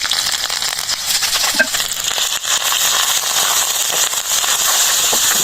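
Ginger and garlic paste frying in ghee while preparing karahi mutton, a steady, dense crackle and sizzle that holds throughout at close range, with no talk over it.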